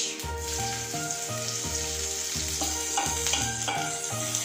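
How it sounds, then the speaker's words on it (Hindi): Garlic and green chillies sauté in hot oil, giving a steady, fairly quiet sizzle throughout, with a rhythmic tonal pattern running alongside. "हल्का सा सॉटे कर लेते हैं। हल्का सा मेरा लहसुन जो है भून गया है।"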